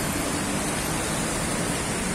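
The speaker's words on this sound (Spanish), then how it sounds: "este es el río Cali." The Cali River flows through the historic center of Cali, a steady broadband rush of water that fills the short stretch evenly, with no voices over it.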